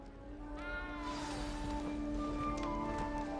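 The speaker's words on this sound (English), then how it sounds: "You don't need to be frightened, little cat." A small cat meows in Hogwarts Legacy, its plaintive tonal cries rising and falling close by over a steady bed of game music and ambient hum, with no one speaking.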